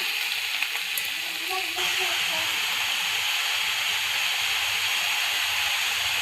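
Shredded cabbage, carrot, tomato and coriander sizzle and hiss steadily in a hot pan while being sautéed, a continuous close frying sound with a brief clatter of stirring early on.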